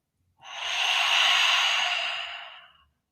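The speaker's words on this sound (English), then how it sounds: "And then have an open mouth exhale." A single long open-mouth exhale during a breathing exercise, a soft breathy whoosh close to the mic that swells and fades over about two seconds.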